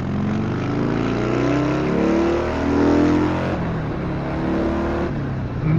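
Motorcycle engine pulling under a gentle throttle roll-on after a torque-improving install, a steady loud drone with rising harmonics that swell and ease, continuous and close with no talk.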